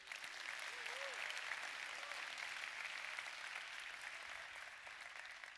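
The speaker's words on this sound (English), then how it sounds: "So let's give them a round of applause" A crowd at a Google event in Indonesia applauds the country's first Google certified developers, steady broadband clapping that holds fairly even throughout, with a faint voice briefly audible beneath it.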